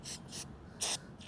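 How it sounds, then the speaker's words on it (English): Short hissing bursts of carb cleaner sprayed onto a pressure washer carburetor: three quick close sprays, the third strongest, then a faint fourth hiss. "spray down your carburetor with carb cleaner again"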